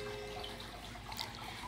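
Water is poured onto potted tomato plants in a garden, a soft steady trickle and splash running continuously with faint drips, close by and with no talking.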